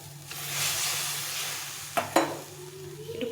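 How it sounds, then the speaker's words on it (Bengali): Hot water goes into a pan of fried spice paste for a fish curry, and a broad sizzling hiss swells and then settles. Two sharp metallic clinks and a stirring scrape follow close by. "এখন আমি এখানে পরিমাণ মতো জল দিয়ে দেবো।"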